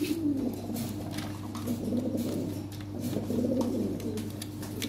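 Red and black Lahori pigeons coo at a pigeon sale, with repeated soft, throaty rolling calls overlapping close by above a faint steady hum and no one speaking.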